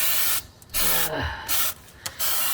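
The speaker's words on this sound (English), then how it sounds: "just shoot up some undercoat onto the bolts there" Aerosol undercoating sprays onto bolts during work on a high-mileage track Miata, in three loud hissing bursts of steady broadband noise with brief pauses between them, close to the microphone and with no voices.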